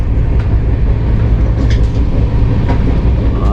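A train rumbling steadily along the rails, a loud continuous low roar with faint clicks and rattles from the carriage.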